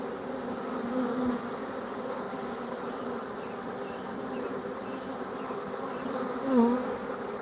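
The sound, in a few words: honey bees buzzing around hive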